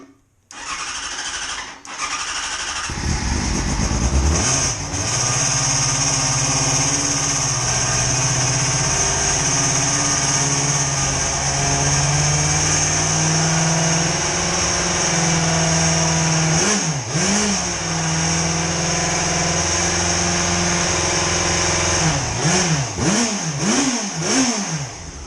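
Yamaha FZ6 motorcycle cranks and catches on a slightly rough start with an unprimed fuel pump, then settles into a steady close idle with a few short throttle blips near the end.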